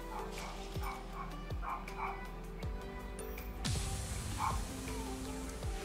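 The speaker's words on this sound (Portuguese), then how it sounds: "O cachorro vai latir bem na hora de gravar o vídeo" A dog barks several times in the background, short separate barks spread across a few seconds, fairly faint beneath other steady sound.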